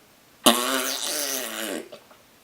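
A voice imitates a fart with a single buzzing, sputtering blow that lasts over a second and trails off, loud and close in an otherwise quiet room.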